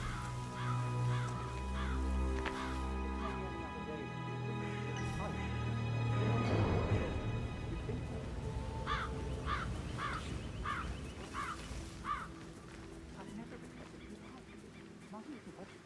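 Crows caw repeatedly in the Hitman 3 game, a run of short, evenly spaced calls in the second half over steady game ambience, with a player's voice heard earlier.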